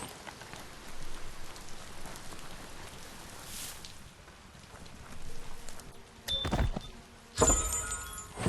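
Rain falling in the Biomutant video game, a soft, steady patter of drops on surfaces, fairly quiet, with a few sharp thumps and bright clattering bursts near the end.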